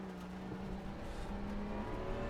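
A Ferrari race car engine at Oulton Park in a racing game, track wet, holding a steady droning tone near at hand with slight pitch shifts and no voices.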